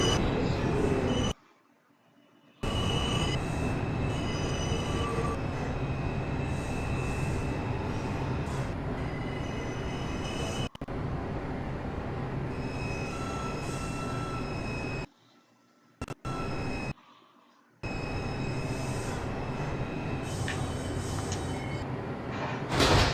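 A Brooklyn-bound 3 subway train on the IRT mainline in the Roblox video game rumbles steadily along the rails with wheel noise, broken by a few short silent gaps.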